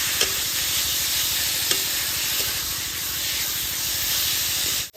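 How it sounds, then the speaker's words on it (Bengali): Taro greens with turmeric and salt are stirred in a hot pan, giving a loud, unbroken sizzle and hiss with occasional faint spoon taps close by. "বেশ সুন্দর করে এরকম করে নাড়িয়ে দিব।"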